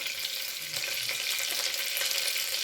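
Mustard seeds sizzle steadily in hot oil and butter in a pan while misal pav is being cooked, a continuous close hiss with fine crackles and no voices.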